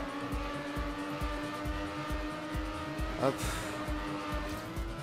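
Race car engine in the video game Trackmania drones steadily with a pulsing low rumble, and a brief tire screech rises around the middle; a voice speaks one short word over it.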